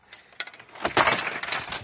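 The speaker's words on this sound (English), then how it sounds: "Head first through that glass, my god!" Glass smashing as a wrestler is thrown head first through a window during a muddy wrestling match, a burst of clinks and shattering shards rising after a few light taps and ringing on for about a second.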